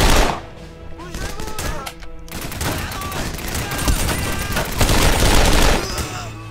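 Gunfire in a Dien Bien Phu war video game, loud bursts of rapid shots and crackling fusillades, broken by a brief lull and then continuing densely, with a voice briefly audible.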